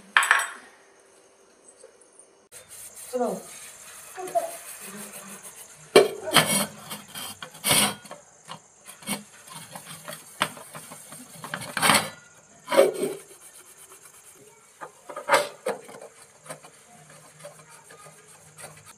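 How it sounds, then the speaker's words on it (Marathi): German silver and aluminium pots scrubbed by hand with a scrubber and black shampoo-based cleaning mix, giving irregular rasping, clattering strokes in short bursts, close and fairly loud, with no talk. "चला आता भांडे घासून."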